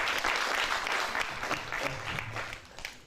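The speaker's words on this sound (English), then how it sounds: "a big applause to our chief guest" An audience applauds a chief guest at a science innovation competition event, a dense, steady wash of many hands clapping that slowly fades over a few seconds.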